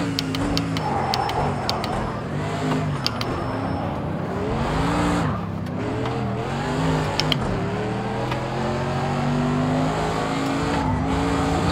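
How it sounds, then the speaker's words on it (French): A Mercedes-AMG GT3 race car in the Project Cars 2 racing game revs hard with engine pitch sweeping up and down through gear changes, while tires squeal and skid as it drifts, loud and continuous throughout. "Je pars un petit peu en drift là."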